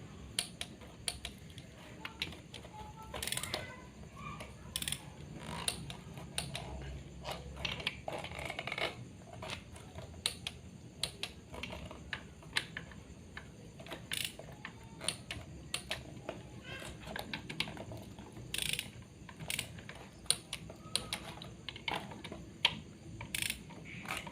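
Quiet clicking of a ratchet wrench tightening bolts while fitting pistons into a Toyota 3SZ engine block, bursts of rapid clicks repeating over a low background hum.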